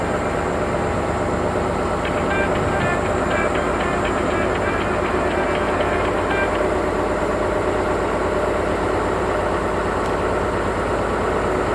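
A crane's engine runs steadily while lifting a new generator onto a boat, giving a constant loud mechanical drone with a faint higher whine in the middle and no talking.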